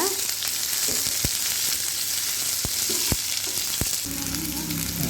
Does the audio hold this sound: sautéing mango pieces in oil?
yes